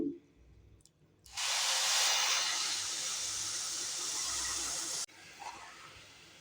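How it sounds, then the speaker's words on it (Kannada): Jaggery syrup boiling in a pan, a loud, steady hiss that starts abruptly, holds for about four seconds and cuts off sharply, with quieter stirring sounds before and after. "ಎರಡೆಳೆ ಪಾಕ ಬರುವವರೆಗೂ ಕುದಿಸ್ಕೊತಾ ಇದ್ದೀನಿ"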